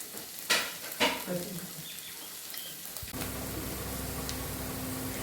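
Chopped onion frying with ginger and garlic in a pan: a couple of sharp clanks and stirring knocks at first, then the onions hit the oil and a steady, close sizzle takes over.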